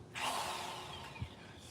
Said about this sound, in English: I mean cordless electric drill.